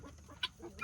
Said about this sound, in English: these Bielefelders are a large breed bird